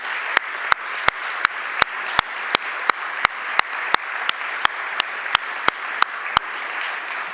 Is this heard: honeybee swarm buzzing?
no